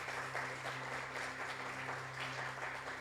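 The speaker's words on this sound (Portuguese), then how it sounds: "Vamos a aplaudir a Dios por sus vidas." Church congregation clapping during a celebration service, a quiet, even wash of applause heard alongside a steady low hum.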